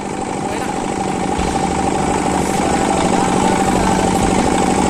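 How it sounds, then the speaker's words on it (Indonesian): A water pump engine runs steadily and loudly right beside a rice paddy weeding machine in a field, a constant mechanical drone with no break. "suaranya nggak bisa terlalu jelas karena berdampingan dengan mesin pompa"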